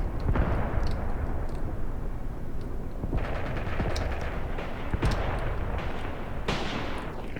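Gunfire crackles through a tank battle in the war game Graviteam Tactics Mius Front: repeated bursts of machine-gun and rifle shots with heavier booms, in several loud clusters over a constant rumbling background.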